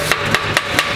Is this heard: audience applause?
no